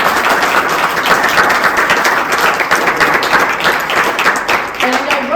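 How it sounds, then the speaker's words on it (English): An audience at a Howard University panel event applauds the panelists, a steady round of clapping that continues throughout, with a voice coming in near the end. "Everyone give them a round of applause."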